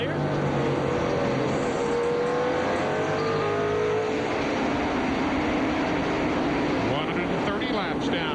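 NASCAR Busch Series stock cars race at South Boston in 1997, their engines droning loudly and shifting pitch as they pass, with a race commentator talking over the roar throughout.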